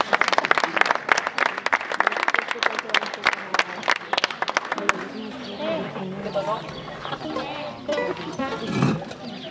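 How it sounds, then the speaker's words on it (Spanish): An audience claps loudly for the singer Fernando at a gathering in Tauste. The dense clapping fills the first half and is mixed with voices, then thins out as people go on talking. "Venga, se fuerte aplauso para Fernando."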